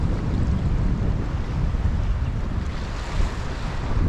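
Strong wind buffeting the microphone over sea swell on a beach at Tenby's North Beach in Pembrokeshire, a continuous low roaring rumble with surf wash beneath, no talking.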